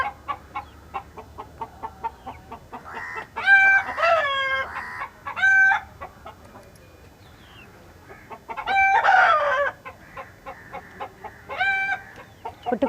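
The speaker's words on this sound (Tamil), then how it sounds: "கோழிப்பா எல்லாம் ஒரே கத்துறானுங்க பாருங்க" Chickens and roosters cluck in bursts and crow loudly nearby, the calls rising and falling in clusters over a quiet farmyard background.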